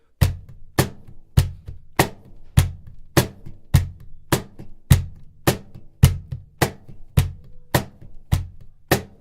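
A cajon played fast and steady, crisp slaps alternating with deeper bass thumps in a repeating rhythm, close and alone.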